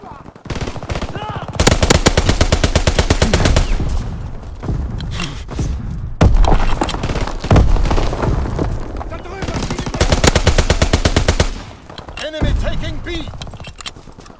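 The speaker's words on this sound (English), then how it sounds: "Strafing run inbound." Call of Duty: WWII strafing run from aircraft in multiplayer combat, with long loud bursts of rapid machine-gun fire repeating in several sweeps, mixed with scattered gunshots, explosions and game voices.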